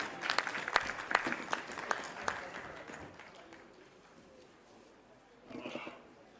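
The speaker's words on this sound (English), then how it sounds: "A huge round of applause everyone as they perform." Applause from an audience at a Punjabi cultural performance opens with a crisp, fairly distant patter of clapping that thins out and fades, followed by a short burst of crowd noise near the end.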